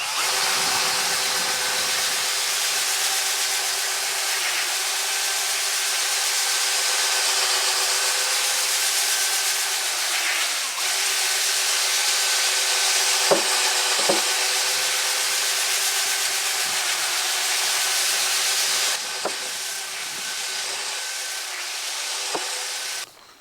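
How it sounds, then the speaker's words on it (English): Continuous abrasive whir of sanding a large wooden dowel, down to 400 grit, with a steady motor hum, a few brief knocks and pauses, close and constant. "all the sanding is done. I sanded right down to 400 grit"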